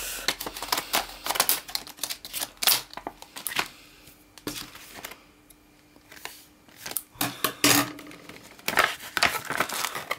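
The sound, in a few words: struggling to cut tape on Pokémon card packaging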